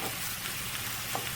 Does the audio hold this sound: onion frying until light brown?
yes